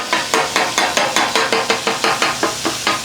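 Regular metallic scraping strokes of a spatula chopping and turning sausage and potatoes on a Blackstone griddle, about a dozen evenly spaced hits over a soft background sizzle.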